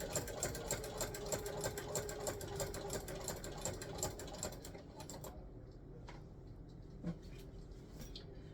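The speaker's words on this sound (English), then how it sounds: "And then you're going to sew." A sewing machine stitching binding onto a quilt runs in a fast, even mechanical patter up close, then stops, leaving a few soft clicks and handling sounds.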